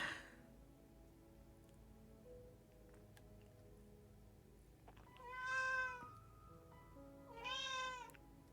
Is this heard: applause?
no